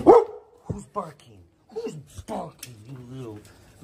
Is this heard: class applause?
no